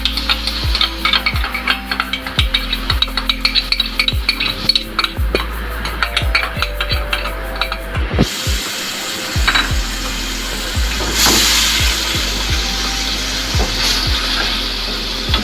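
Tomato puree and ketchup hitting a hot pan for a vegetable gravy, with a steady sizzle and repeated scraping, clinking spoon strokes against the pan, loud and close, with no talking.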